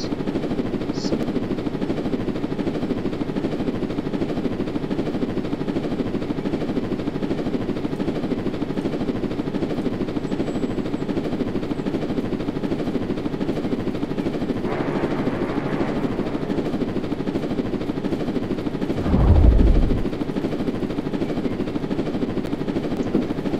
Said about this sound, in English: So now I got the heli